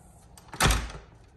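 An Andersen storm door is swung all the way open, making a faint shuffle and then a single muffled thud that dies away.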